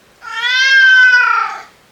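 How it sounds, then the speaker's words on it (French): Apollo, a deaf apartment cat, gives a single long, loud meow close by, rising slightly and then fading, with nothing else heard. "c'est un chat d'appartement"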